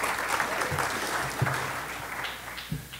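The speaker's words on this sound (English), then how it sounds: "let us applaud you" An audience at a journalism and democracy plenary applauds community radio person Renee Carpenter from Vermont, a dense steady clapping from a roomful of people, continuous through the whole stretch.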